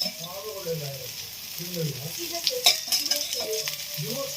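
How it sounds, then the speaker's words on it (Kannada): Shahi kebab fries in hot oil with a constant bright sizzle close by. Someone talks over it throughout, with a few stirring clinks. "ಇದೊಂಥರ ಕಬಾಬು, ತುಂಬ ಫ್ರೈ ಮಾಡ್ತಾ ಇದ್ದೀನಿ"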